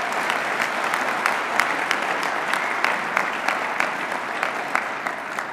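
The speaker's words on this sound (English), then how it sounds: "How about a round of applause for him?" An awards-show audience gives a round of applause for the event organiser, a loud, dense wash of many hands clapping with a few sharper claps standing out, continuous for several seconds.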